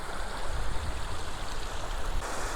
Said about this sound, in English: we're back at the river